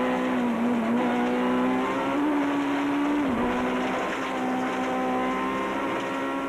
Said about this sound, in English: Take note also of the excessive wheel spin in the mud, with the engine constantly hitting the rev limiter.